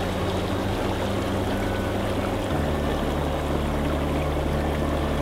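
An inflatable hot tub churns with bubbles as it fills with water, giving a steady, dense rushing and bubbling wash with a low rumble underneath that shifts partway through.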